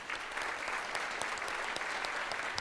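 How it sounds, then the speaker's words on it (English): Steady applause from a seated audience at a high school scholarship reception, even and moderately loud throughout, with no speech over it. "So let's give Olivia a round of applause."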